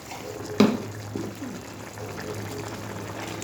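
A bowl being rinsed under running water, steady splashing flow with a brief knock near the start, close and even throughout.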